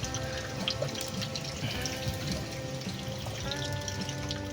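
Water pours into a cattle feed mixture in a tub, a steady faint splashing and trickling stream that runs on for several seconds, close by, with no talking.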